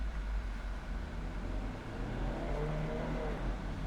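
Interior engine drone of a Nissan Silvia S13 with pitch shifting as revs change through a gear shift, steady and moderately loud with faint rising tonal lines, no voices.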